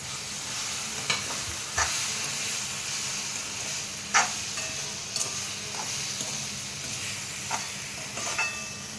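Semolina roasts in ghee with banana and dry fruit, giving a continuous soft sizzle up close, broken by occasional stirring scrapes and utensil knocks against the pan, with no speech.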